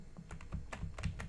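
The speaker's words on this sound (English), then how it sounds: "Sorry if you guys can hear my keyboard." Keys on a computer keyboard clack in a quick, uneven burst of typing, faint and close, with no talking.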